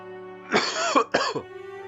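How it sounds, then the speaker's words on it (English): Two harsh coughs into an elbow, close and clear, the second shorter than the first, over a faint steady background tone. "Elbow cough into it."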